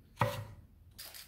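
A big knife slices through thick-skinned celery with one firm chop onto the board, close and distinct, followed by a faint second cut.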